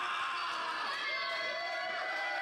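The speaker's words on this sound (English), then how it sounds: "That crowd trying to will Brian White on." A wrestling crowd in an arena cheers and shouts in a continuous, fairly faint roar that stays steady throughout, heard from a distance without distinct voices standing out.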